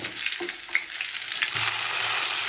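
Chopped onion and garlic fry in hot oil, a close steady sizzle with light stirring scrapes, no voices.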